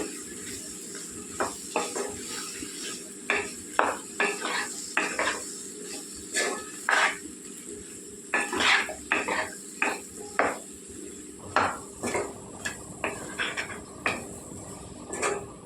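A spoon stirs a cucumber and potato curry, seasoned with salt and turmeric, in a metal pot, making a long run of irregular clinks and scrapes against the pot over a faint background sizzle, with no voices.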